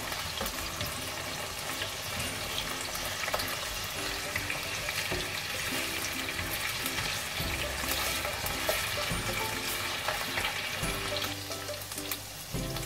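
Potatoes and whole red chilies frying in oil, a dense, continuous sizzle and bubbling heard up close at a steady level throughout, with no voices over it.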